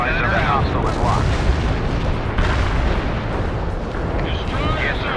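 Heavy artillery in the video game World in Conflict thunders continuously as a loud, dense rumble of blasts, with radio-style voices talking briefly over it near the start and the end.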